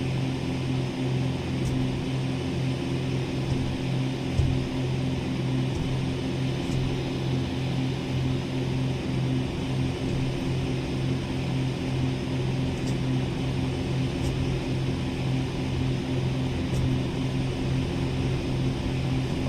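A steady, droning propeller engine of a fighter plane in the video game Aces of Thunder, a continuous low hum with a constant tone running unbroken throughout, no voices over it.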